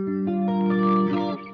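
Clean electric guitar tone from an EART GW2 headless guitar with two pickups combined, a sustained chord ringing out with a touch of chorus and reverb, fading slightly at the end, played alone.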